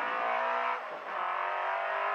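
A car engine drones steadily through a khanacross run at Willowbank Raceway, dipping briefly as the driver shifts back a gear and then pulling hard again, close and continuous with no talk.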